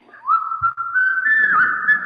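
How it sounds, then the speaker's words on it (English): Someone whistling the tune Yankee Doodle, a clear, loud, sustained melodic whistle heard alone at close range for about two seconds. "Somebody's whistling. It's Yankee Doodle."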